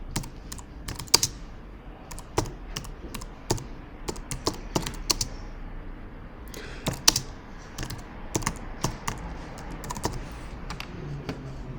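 Steady typing on a computer keyboard while entering text in InDesign, irregular clusters of close, crisp key taps continuing alone for about twelve seconds.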